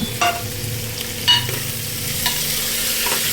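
Vegetables and chopped mint frying in a pan for broken wheat bisibele bath, a steady close sizzle with a few brief scraping stirs, no voices.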